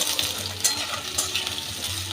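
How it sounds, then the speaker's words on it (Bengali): Diced potatoes fry in hot oil with white cumin seeds, making a steady, close sizzle that crackles throughout with no voices. "আলুটাকেও আমি একটু ভেজে নেব।"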